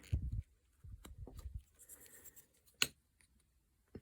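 A carving knife shaves a small wooden carving, rounding its edges with short, quiet scraping cuts and a couple of sharper clicks, close up and faint.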